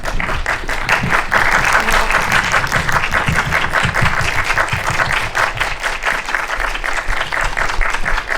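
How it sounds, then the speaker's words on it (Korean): Sustained, dense applause from a cinema audience at a post-screening talk for the film Fighter, welcoming the director and actors onto the stage. It stays loud and steady for about eight seconds. "들어오시면 큰 박수 부탁드리겠습니다"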